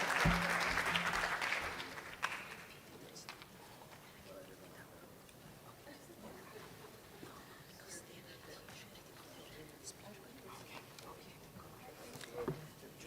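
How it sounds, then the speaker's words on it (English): Audience applause at a women's digital trade fund launch event fills the first couple of seconds, then fades into scattered claps, murmuring and quiet room noise. "A final round of applause, please."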